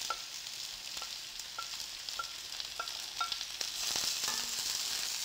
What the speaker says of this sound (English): I want to fry it gently.